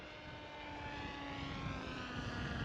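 A stealth-style model airplane passing overhead with its engine throttled back to idle, giving a steady, moderately loud engine drone that rises slightly as it goes by, with no talk.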